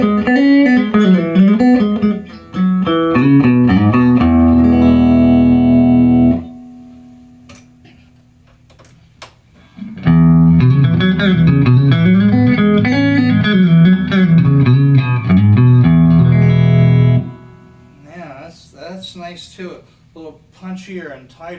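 Electric guitar played through a Louis Electric Columbia amp and a Fender 64 Deluxe Reverb custom hand-wired amp, loud sustained chords and single-note lines in two long passages separated by a quiet gap, with reverb tails fading out.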